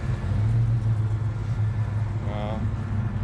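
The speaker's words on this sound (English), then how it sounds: "Got another Road Runner pulling in right there." A Plymouth Road Runner muscle car pulls in at a Mopar classic car show, its low engine rumble rolling steadily nearby with people talking over it.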